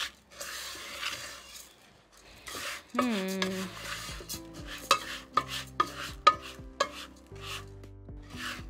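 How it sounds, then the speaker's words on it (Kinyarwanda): Rice frying with turmeric in a pan, stirred with soft scraping and a few sharp clinks of a utensil against the pot over a faint sizzle, while background music plays. "Tuwukarange wivange na cya kirungo cyacu cya turmeric."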